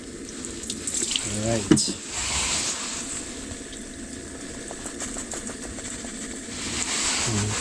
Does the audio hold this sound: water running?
yes